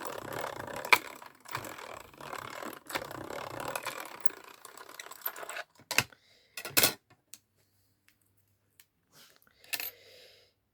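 Scissors cut small paper pieces for a star craft, with a stretch of rapid clicking and rustling followed by a few isolated crisp snips separated by quiet gaps.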